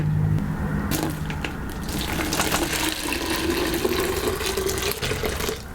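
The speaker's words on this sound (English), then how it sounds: "Hot water." Hot water poured over loose-leaf tea in a bowl makes a continuous close splashing and trickling stream that runs steadily throughout with a faint background hum, with no talk.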